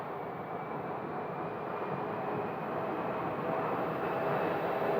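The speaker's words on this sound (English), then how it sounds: "It's Embraer 175 that's getting away from me right there." An Embraer 175 airliner departs Phoenix Sky Harbor Airport, its jet roar steady and somewhat distant, swelling gradually louder over a few seconds with no speech.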